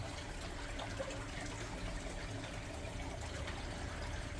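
Fresh water running into a pond holding fish, a steady continuous gush and trickle at close range with no voices.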